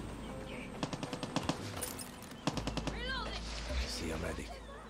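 Automatic gunfire in the video game Far Cry 6, two short rapid bursts of evenly spaced shots heard over game ambience, with a faint animal cry and low rumble afterward.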